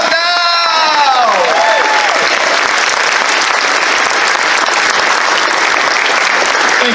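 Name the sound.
audience applause and cheering at convention closing ceremony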